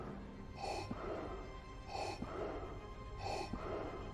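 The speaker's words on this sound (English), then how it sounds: "His breathing has picked up pace." Darth Vader's mechanical respirator breathing in Star Wars: The Force Unleashed 2, three slow rasping inhale-exhale cycles at a steady rhythm, close and continuous over a low background hum.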